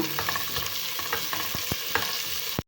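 Chopped onion and garlic sautéing in hot oil in a pan for brinjal rice, a bright continuous sizzle broken by several sharp scraping stirs of a spoon, close and fairly loud, no voices.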